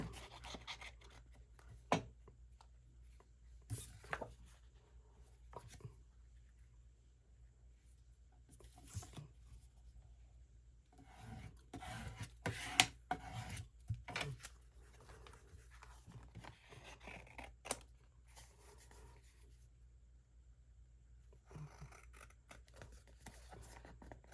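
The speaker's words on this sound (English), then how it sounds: "I guess I'll glue down in this corner here" Paper being glued and pressed down onto the back of a mixed media craft tag, heard as sparse, close, quiet rustles, soft taps and brief crinkles over a low steady hum, with no talking.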